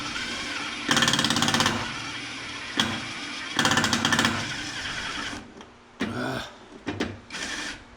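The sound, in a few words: drill boring into boat bait board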